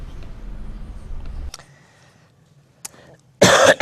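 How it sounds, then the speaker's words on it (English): A man clears his throat and coughs during a formal international online meeting, with a low murmur at first, then a short, sharp cough and a loud burst near the end. "Excuse me, I have a slight cough."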